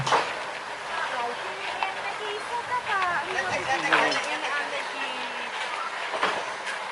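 Sugar cane lorry locomotive rolling along a narrow overgrown track between banana trees, a steady rumbling rail noise with squealing, rising tones from the wheels, close by and continuous.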